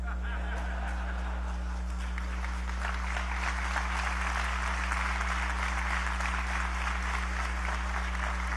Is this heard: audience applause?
yes